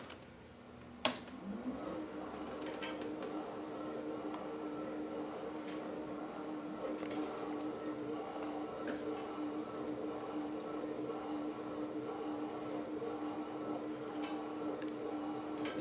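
A 30kW generator runs under test with a steady, continuous mechanical hum and faint rhythmic ticking, kicking in after a brief thump near the start and holding an even level throughout.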